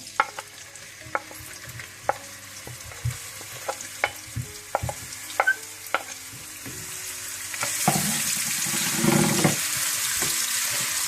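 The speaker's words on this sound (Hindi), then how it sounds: "इसमें आप कटी हुई प्याज बारीक डाल दें" Finely chopped onion sizzles in hot oil for a dhaba-style palak gosht, with steady frying hiss that swells louder near the end and sharp stirring clicks and scrapes of a spoon in the pan along the way.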